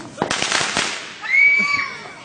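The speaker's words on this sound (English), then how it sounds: "You want some more firecrackers off, George?" Firecrackers going off outdoors at a backyard fireworks show: several sharp pops and crackling bursts in quick succession, followed by a whistling, fizzing sound, with people talking nearby.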